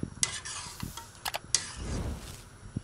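Instant noodles stirred in a pot of boiling water give a few sharp utensil clinks and scrapes against the pot, close and fairly quiet, over soft bubbling.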